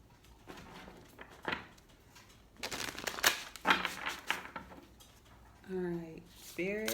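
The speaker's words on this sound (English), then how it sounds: "I won't shuffle it too much." Oracle cards being shuffled by hand in a few quick riffling bursts of papery flicking and snapping, close and moderately loud, with a voice talking toward the end.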